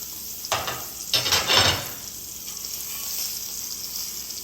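Steak searing in butter in a cast iron pan inside an electric pizza oven, with bursts of loud sizzling and spattering early on that settle into a softer, steady fry.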